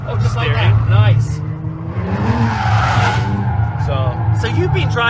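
Car drifting with oversteer, a short-wheelbase car with sharp steering, its engine droning loudly and tires squealing through a sustained slide mid-clip, with someone talking over it.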